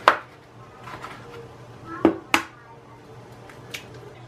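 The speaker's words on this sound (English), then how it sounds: "while this idiot cracks a dozen eggs" Eggs being cracked into a bowl, a few sharp separate cracks and taps spaced apart against a quiet kitchen background.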